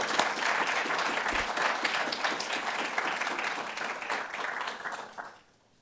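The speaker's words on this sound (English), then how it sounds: "please join me with a round of applause to invite Ambassador Stevens to the podium." A lecture audience at the Harvard Asia Center claps warmly for an arriving ambassador, the even applause carrying for about five seconds before dying away into quiet.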